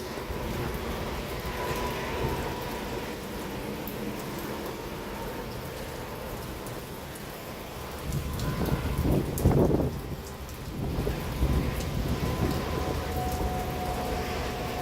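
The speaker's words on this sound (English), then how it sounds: "Okay, it's just a regular rainstorm to me with some wind." Steady rainstorm with some wind during a severe thunderstorm watch in Stockbridge, Henry County, Georgia: continuous hissing rain and gusty wind noise throughout, swelling louder in the second half with a brief stronger surge, no talking.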